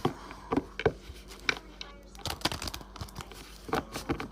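A tarot deck is shuffled by hand in a string of close, irregular papery riffles and crisp snaps, with a voice partly audible between the card sounds.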